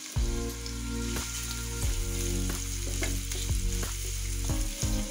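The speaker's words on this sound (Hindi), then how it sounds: "मैंने पैन में 2 चम्मच ऑयल डाल दिया है, 1 प्याज अच्छे से छोटा छोटा कट कर कर डाल लेंगे।" Chopped onion sizzles and crackles steadily in a pan of hot oil at close range, with occasional stirring scrapes and clinks recurring about once a second across the whole stretch, and no talking.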